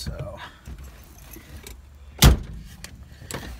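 Original keys for a 1988 Ford Ranger pickup jangle in one short, loud metallic burst near the middle, with faint rustling and quiet movement before and after.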